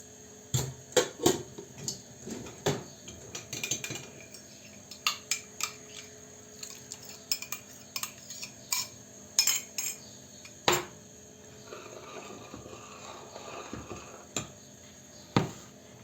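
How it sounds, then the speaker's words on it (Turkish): Spoon stirring a starch and water mixture into a pot of rice pudding, sparse clinks and scrapes of metal against the pot at irregular intervals over quiet background, no talk. "Şimdi nişastamızı suyla açarak şöyle içerisine ekleyelim. Sürekli karıştıralım."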